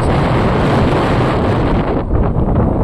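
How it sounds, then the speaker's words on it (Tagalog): Strong wind buffets the microphone at Dangay Port, Roxas, with loud, constant roaring gusts, with no voices. "Lakas pa ng hangin."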